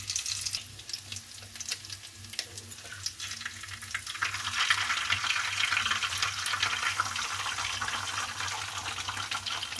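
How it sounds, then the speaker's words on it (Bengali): Three eggs crack into a hot pan while making chowmein, starting a loud, continuous crackling sizzle that intensifies after a few seconds and keeps spitting steadily, close up with no talk. "আমি এইভাবে ডিমগুলো ফাটিয়ে দিয়ে নেব।"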